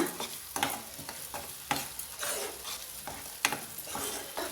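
Tomatoes sautéing in a pan for North Indian chana masala, a steady sizzle broken by repeated scraping stirs of a spoon against the pan, close and moderately loud with no talking.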